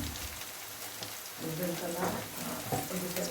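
Garlic and onion sizzle and crackle in hot oil in a pan, a steady close frying hiss with stirring scrapes, lightly under faint talk.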